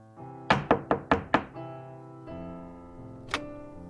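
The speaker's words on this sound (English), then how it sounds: "She knocks." Five quick, firm knocks on a door in an audio drama, evenly spaced and close, then a sustained musical tone and one more lighter knock-like hit.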